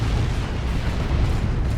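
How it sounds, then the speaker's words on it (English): Dense, continuous booming rumble of explosions from a Dawn of War 2 battle between Orks and Chaos Space Marines, loud and heavy with no gaps. "Lots of explosions"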